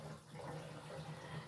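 Water draining from a washing machine, a steady faint trickling and gurgling stream that runs continuously at low level with no talk.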